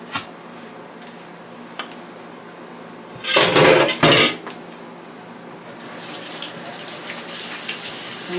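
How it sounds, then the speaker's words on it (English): Hands scrubbed under a running kitchen tap, beginning with a couple of faint clinks, then a loud gush of water for about a second before a steadier, softer stream of running water. "I'm washing my hands"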